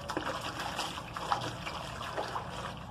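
Animal hides pushed around in a bucket of fresh water with a little dish soap, giving soft, continuous sloshing and trickling close by, with faint irregular splashes and no talking.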